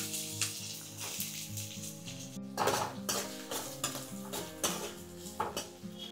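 Chopped onions sizzle in hot oil with tempered mustard seeds, chana dal and urad dal while a spoon scrapes and clinks against the pan, for a bottle gourd curry, under steady background music.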